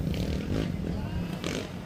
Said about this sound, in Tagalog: Para palyado nga yung motor niya eh.